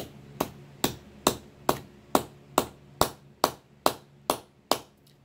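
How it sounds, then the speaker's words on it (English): A metal spoon is hammered in a vise with hand tools to shape a spoon ring: eleven sharp, evenly spaced strikes, each ringing briefly before the next blow. "I can start hammering. So I'm going to hammer."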